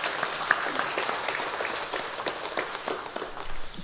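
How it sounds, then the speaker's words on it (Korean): A church congregation applauds together during a Sunday worship service, a fairly soft but steady wash of many hands clapping with a few sharper individual claps standing out. "우리 영광의 박수 한번 올려드리겠습니다."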